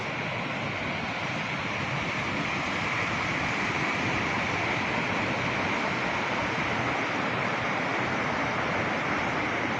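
The Alaris waterfall in the Ain in autumn roars steadily, a dense, loud, unbroken rush of falling water close by.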